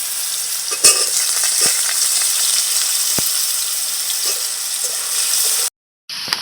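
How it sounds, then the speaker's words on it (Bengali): Potatoes fry in a pan on a home stove, a steady, close sizzle with a few soft clinks, then a sudden brief silence near the end before the sizzle returns. "প্রথমে আমি আলুগুলো দিয়ে দিলাম আলুগুলো একটু ভাজা করে নেব"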